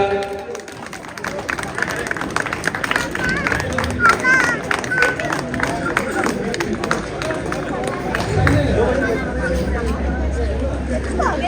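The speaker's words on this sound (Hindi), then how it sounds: "अमित कुमार थापा जी के लिए जरा जोरदार तालियां।" Crowd applause at a stage event in Dehradun as a local guest is honoured; dense, sustained clapping with background chatter and hubbub throughout.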